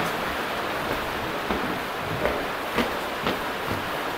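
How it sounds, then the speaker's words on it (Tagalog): Heavy rain falls steadily outdoors in hot weather in Vigan, a dense continuous hiss with a few louder splashes standing out from the wash. "Wala, lakas na ng ulan."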